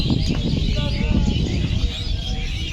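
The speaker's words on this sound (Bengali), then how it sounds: "পাখির ডাক কিন্তু অনেক সুন্দর" Forest birds in the Sundarbans call and chirp in an overlapping chorus over a low rumbling background, steady and moderately loud throughout.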